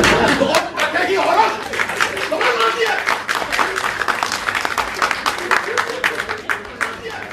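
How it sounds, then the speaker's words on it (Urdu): Audience applause fills a packed auditorium after a stage play, dense continuous clapping mixed with crowd chatter, steady and loud throughout without a break. "کھچاکھچ بھرے آڈیٹوریم میں تالیوں کی گڑگڑاہٹ نے اداکاروں کی خوب حوصلہ افزائی کی"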